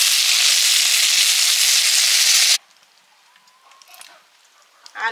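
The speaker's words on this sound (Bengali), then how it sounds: "আর এই ছোটো মাছগুলোও ভেজে নিচ্ছি।" Small pond fish fry in oil, giving a loud, steady hissing sizzle for about two and a half seconds before it cuts off to near quiet with faint kitchen clinks.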